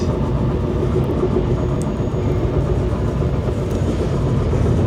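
A Canadian sleeper train crosses the frozen prairie at minus 37 Celsius, its steady, heavy rumble rolling on without pause, loud and close from inside the carriage.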